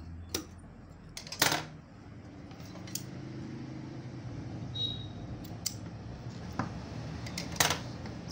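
Scissors cut blouse fabric in a few crisp snips close by, with a low fan-like hum underneath and quiet gaps between the cuts.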